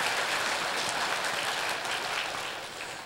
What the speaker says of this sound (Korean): 이순신 장군에 대해서 또 한번 박수가